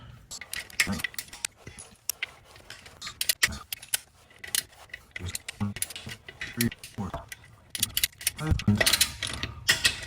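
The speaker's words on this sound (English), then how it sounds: "So we adjust the torque wrench to 17 foot-pounds." A torque wrench is adjusted and used on the clutch pressure plate bolts of a 987.1 Porsche Boxster, producing close, irregular metallic clicks and ratcheting taps with brief clanks, mixed with intermittent talk.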